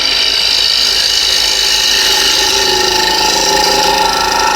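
A wood lathe spins at almost 1600 RPM, giving off a loud, steady high-pitched whine and hum that stays constant the whole time with no talking.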